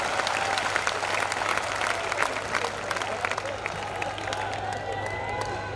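A crowd at a Hindi comedy poetry gathering claps together in steady, dense applause, loud and sustained throughout with a low hum beneath.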